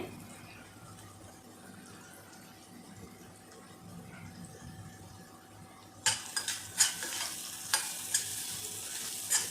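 Onion with asafoetida in a pan, quiet at first, then a louder sizzle breaks in partway through with utensil scrapes and clinks as it is stirred.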